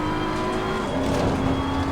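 A race car accelerates on track, its engine whining steadily and loud with rising harmonic tones and faint tire noise, heard alone without talk.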